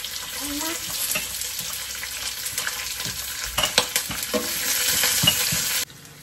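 Onions with green chillies and curry leaves fry until translucent. A continuous close sizzle comes with scraping stir strokes and a few louder clacks, then ends abruptly near the finish.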